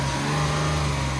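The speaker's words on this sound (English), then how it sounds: "Rev her up." Hyundai car engine running and being revved after a battery fix, a steady close engine drone with a constant tone through the short stretch, no voices.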